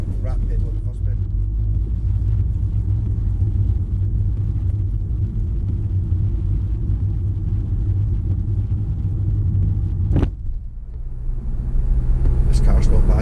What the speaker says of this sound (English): This car's not bad in the rain either